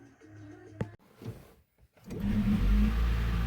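A Honda car engine idles while warming up, a low steady rumble that builds and settles into a continuous hum after a brief quiet gap, with a few faint clicks and knocks before it.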